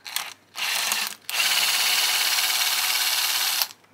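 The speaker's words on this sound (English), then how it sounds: "And I'll drill a hole where I want my tensioner to go." Three close bursts of a power drill boring a hole for a belt drive tensioner, two short then one long, high-pitched grinding whine separated by brief pauses.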